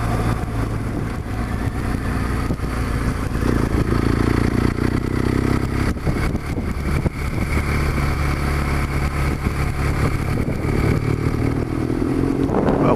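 A motorcycle rides along the road on a sunny day, its engine droning steadily and loudly throughout with some wind rush and a few louder revving surges, no voices.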